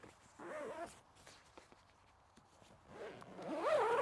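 A zipper on a Naturehike Cloud Peak 2 tent pulled in two short close zips, separated by quiet rustling and footsteps on the ground.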